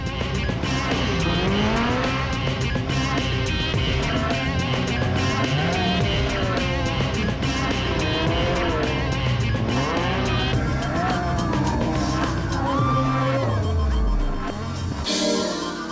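Rally cars race flat out around a shopping centre car park at night, engines revving and screaming through gear changes with tyre squeal and skids, loud and continuous with a crowd around.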